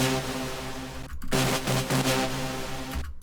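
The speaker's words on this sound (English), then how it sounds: "It's kind of like a brass stab sound. One cool thing I'm doing though is automating the attack like this." Brass stab synth lead for melodic techno with an automated attack, bright chord stabs in short bursts separated by brief gaps, loud and alone.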